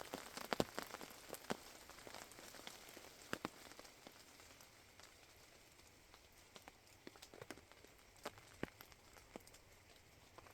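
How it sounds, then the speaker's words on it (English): Rain falls steadily on a camping hammock setup, a soft continuous patter with scattered sharper drops tapping close by, no voices. "It sounds like it's still raining"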